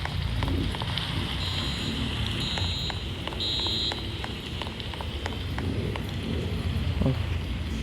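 Steady rain falls in the Roblox game Brookhaven near a school, a continuous hiss with scattered drop ticks, while a high beeping alarm sounds in three short bursts early on.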